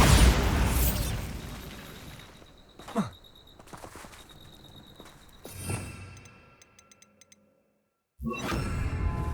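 The Bombarda explosion spell goes off in Hogwarts Legacy as a couple of sharp, booming bursts with rumbling tails amid game effects, followed by a brief lull before loud noise returns.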